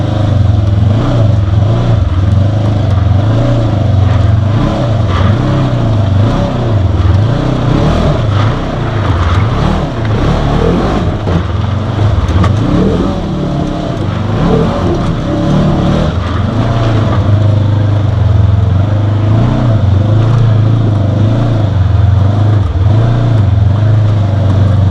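A UTV fitted with SuperATV Rhino rear axles driving off-road, its engine droning loud and continuous with rising and falling revs throughout, close to the microphone and without any talking.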